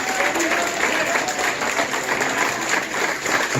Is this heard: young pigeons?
no